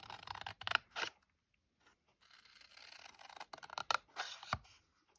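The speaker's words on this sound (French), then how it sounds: "Je coupe sur la ligne de pli." Scissors cut through scrapbooking paper along a fold line on a diagonal box, giving a few quick crisp snips and then a longer steady run of cutting, close and fairly quiet.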